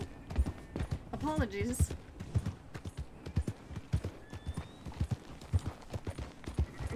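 A stolen horse clip-clops along at a steady walking rhythm in the open-world game Red Dead Redemption 2, hoofbeats close and distinct, with a brief whinny near the start and someone speaking a word over it.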